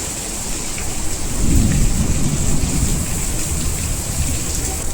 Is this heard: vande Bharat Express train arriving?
no